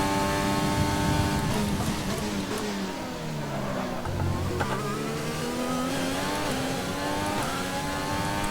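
Formula 1 car engine racing at Bahrain in the F1 2020 video game: a loud, continuous high-pitched whine that climbs and drops through gear changes, with a brief tire squeal and no talking.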